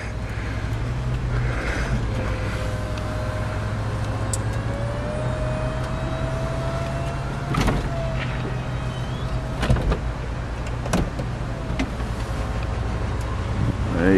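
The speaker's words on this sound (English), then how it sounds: "put the roof back up. I'll show you that working." The electric convertible roof of a BMW 320i closing, a steady motor whine and hum with a few mechanical clunks and clicks along the way, close and moderate in volume, with no talking.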